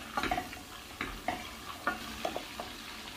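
Amul butter melting in a pan to make ghee, giving a quiet, soft sizzle with light stirring scrapes at an uneven rhythm, close and alone.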